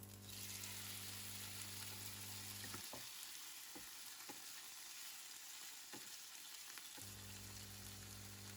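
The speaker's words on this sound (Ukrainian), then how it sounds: "закидаю відварені білі гриби і підсмажую до скоринки" Boiled porcini mushrooms fry in hot oil in a pan, giving a steady, close sizzle with a few sharp crackles and a brief stirring disturbance midway.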